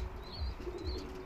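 Pigeons kept as pets cooing nearby: two soft, low, rounded coos in quick succession, with a few thin high chirps mixed in over a quiet background and no talking.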